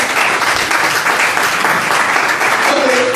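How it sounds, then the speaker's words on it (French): A seated audience at a French-language business presentation claps loudly and continuously, dense close applause throughout with a brief voice rising near the end. "Applaudissez pour ça"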